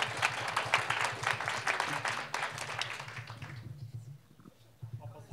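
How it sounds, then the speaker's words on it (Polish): An audience at an Oxford-style debate breaks into dense, rapid applause that holds for several seconds, then thins to scattered claps and fades out near the end. "Oczywiście brawa są mile widziane."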